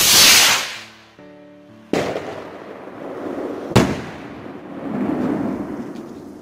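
New Year's Eve fireworks going off, with a hissing burst, then two sharp loud bangs a couple of seconds apart followed by crackling and rumbling tails, moderately near.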